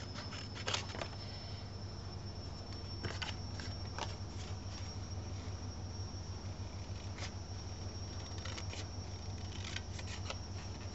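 Scissors cut paper for a scrapbook album project in several short snips, some close and crisp, over a constant low hum from a tumble dryer running nearby, with no voices.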